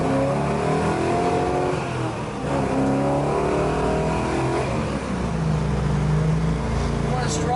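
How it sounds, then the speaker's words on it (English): A 1969 Chevrolet Camaro RS with Flowmaster exhaust runs close by, its engine a loud continuous rumble with shifting revs and pull, while someone talks over it. "What a strong running Chevy"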